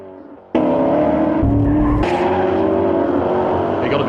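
An Aston Martin sports car on a test track roars loudly with a sustained engine note that surges as it accelerates, tires squealing and skidding through a corner, close and continuous with no talking.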